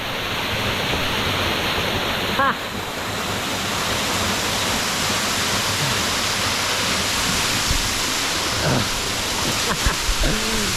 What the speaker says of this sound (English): I think I'm going to go down to the waterfall.